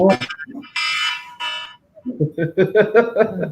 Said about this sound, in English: I didn't know she had an alarm set.